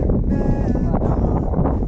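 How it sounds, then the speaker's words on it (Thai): Wind blows steadily at an outdoor viewpoint on a hill, a loud, constant buffeting roar striking the microphone, with faint voices mixed into the gusts. "มันลมด้วย"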